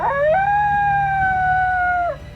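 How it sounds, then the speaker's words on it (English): A coyote howls close by a tent at night at Riverbend Springs, one sustained, wavering tonal howl of about two seconds that rises, holds steady and tails off, heard alone and up close with no talking. "God, it sounds like a coyote."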